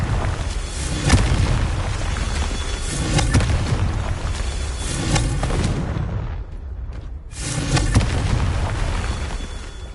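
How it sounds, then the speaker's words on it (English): Spell blasts from the Confringo fire curse in the Hogwarts Legacy game: loud, dense booming bursts that keep coming through most of the stretch, with a short lull just past the middle before another burst. "Confringo. These Merlin trials won't get the best of me"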